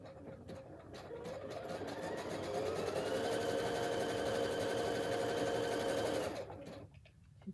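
A zigzag sewing machine with a foot control runs steadily for about six seconds, its motor whirring up to speed and holding a fast even rattle before stopping, close and clear with no talking.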